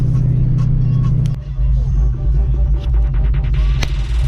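A Ford Foxbody Mustang idles and pulls away, its engine giving a loud, steady low throbbing rumble close by, with a brief dip before the drone resumes alongside faint clicks and rattles.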